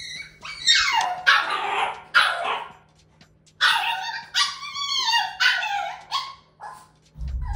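A young puppy left alone at night bursts into repeated high yips, whimpers and barks, several sharp calls in quick clusters with short quiet gaps, close and loud indoors.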